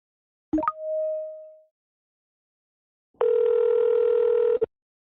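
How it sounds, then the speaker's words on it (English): A phone call being placed to a car dealership: a short plop and a ringing tone, then after a pause a long, steady dialing tone, clear and close with no voices. "Unrelated phone call."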